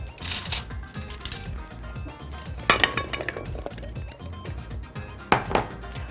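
Potato pieces are set into a metal baking tray for a chicken and potato dish, giving several sharp clinks and knocks in irregular bursts, close and fairly loud.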